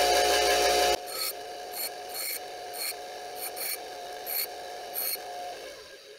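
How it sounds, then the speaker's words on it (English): A grinding wheel takes steel and weld off a masonry drill bit in short, repeated bursts of rasping contact after a brief louder start, close and with no talk. "I'll just grind this away with the regular bit because that's just steel and weld"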